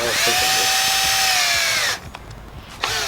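A power drill whines loudly and steadily for about two seconds while drilling into ABS plastic, then stops, leaving quiet handling noises and a small knock.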